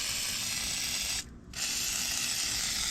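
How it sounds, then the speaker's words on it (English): WD-40 hisses from an aerosol can onto stains in a continuous close spray, broken by one brief pause before the hiss resumes. "we're going to spray some WD-40 on all these stains"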